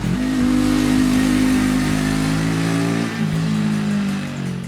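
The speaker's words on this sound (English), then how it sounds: "Thanks to the revised exhaust on this motorcycle, it sounds better than before, it's louder, and it is more bassy throughout the rev range" A 2019 Bajaj Dominar 400 motorcycle with a revised exhaust revs hard with a loud, bassy drone, holding high and then easing off slightly as the throttle drops.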